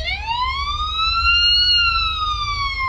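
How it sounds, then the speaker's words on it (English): A police car siren wails steadily in Police Simulator: Patrol Officers, one loud, sustained rising and gently falling tone held for the whole three seconds over a low engine rumble, with no voices. "Do you really need to sit there and blare your siren?"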